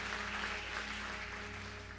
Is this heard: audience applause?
yes